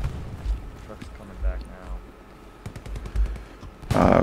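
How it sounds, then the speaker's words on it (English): Gunfire and distant artillery booms in the WWII shooter Hell Let Loose, a scatter of sharp shots and bursts with a louder blast near the end, heard amid game battle noise. "I'm running into the artillery, probably."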